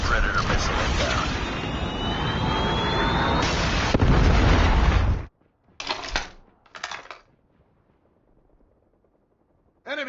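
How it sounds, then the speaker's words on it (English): A Predator missile explodes in a video game with a loud, sustained roaring blast for several seconds that cuts off abruptly, followed by two shorter bursts and then near silence. "Friendly Predator missile inbound."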